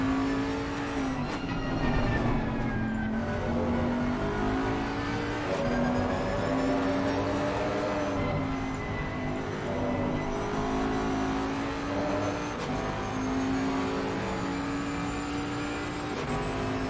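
GT3 race cars in Assetto Corsa Competizione at Laguna Seca roar steadily at close range, engine pitch rising and falling through gear changes and corners, loud and unbroken for the whole stretch.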